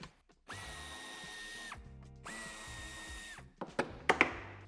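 A power tool removes screws from an Audi Q2 wheel arch, with two sustained whirring drill runs followed by sharp clicks and clatter of parts.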